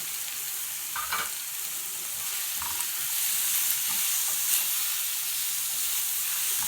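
Liver and gizzards sizzling and frying in a pan while being stirred, a steady hiss with a few soft scraping knocks from the stirring, close and continuous.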